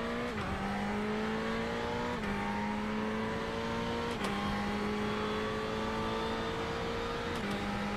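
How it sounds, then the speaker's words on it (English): A Ferrari race car in the iRacing video game at Spa roars loudly and continuously, its engine pitch climbing steadily and dropping sharply at each of several gear shifts. "let me know what the sounds are like for the engine and stuff"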